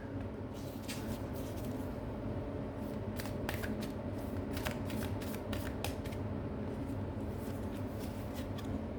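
Tarot cards are handled and shuffled close up, with quick papery riffles and flicks in bursts over a steady low background hum.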